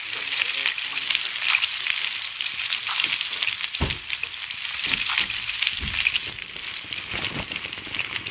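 Food frying in a pan in the Toca Kitchen video game, a steady bright sizzle with soft crackles and occasional clicks running throughout.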